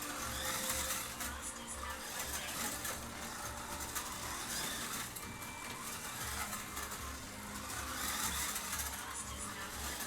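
A BRM 1/24 scale Ford Escort Mk1 slot car running on its track, a faint continuous whirring motor drone with a slightly rattly, buzzy body resonance rising and easing as it laps.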